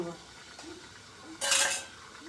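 Mutton being mixed in a pot: soft spoon clinks and scrapes against the metal, then a brief louder clatter and sizzle before it settles back to quiet stirring.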